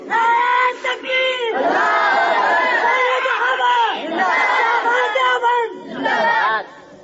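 A large crowd at a religious gathering shouts slogans in unison, loud and close, voices rising and falling in repeated chant-like bursts with brief breaks between them.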